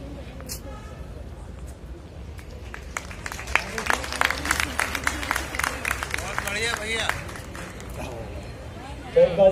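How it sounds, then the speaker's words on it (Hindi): Audience applause for prize winners at a Bait Bazi poetry competition, a steady wash of clapping under a voice speaking through a microphone, with a louder burst near the end. "बहुत मुबारक हो, जबरदस्त तालियां होनी चाहिए"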